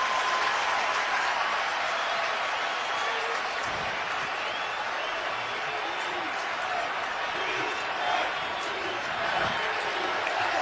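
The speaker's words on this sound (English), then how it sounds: "with all this crowd noise in an obvious passing situation" A huge stadium crowd roars continuously at an NFL game between the San Diego Chargers and Green Bay Packers at Green Bay, a dense, unbroken wash of cheering with a commentator's voice running over it.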